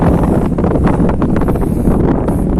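Strong wind buffets the microphone in a continuous loud rush during fishing in Cagayan, with gusty rumbling and no voices.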